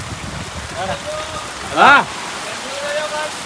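Heavy rain pouring down at an outdoor shoot, a steady hiss of drops hitting surfaces throughout, with someone briefly speaking over it.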